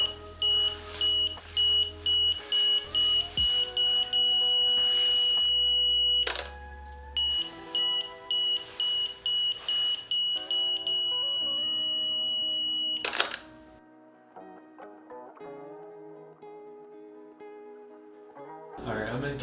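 Polaroid Spectra instant camera self-timer beeping: a run of steady, evenly spaced electronic beeps, close and clear, that quickens into denser pulses before stopping, followed by quieter mechanical clicks.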